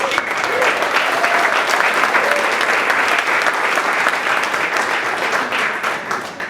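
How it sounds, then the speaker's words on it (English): A panel event audience gives a speaker a sustained round of applause: dense, fairly close clapping that stays level for several seconds, then tapers slightly at the end. "Round of applause for Kyle"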